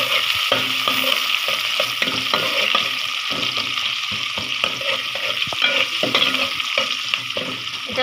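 Onion and garlic frying in a pan at home, sizzling steadily with a spoon repeatedly scraping and stirring through it in an irregular rhythm; no one speaks.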